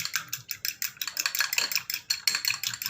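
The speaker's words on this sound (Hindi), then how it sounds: "अंडा लेंगे, इसको अच्छी तरह से हमने फेंट लेना है।" Egg being whisked briskly in a bowl for chicken and daal shami kabab, a steady run of quick rhythmic clinking strokes close up, with no talk.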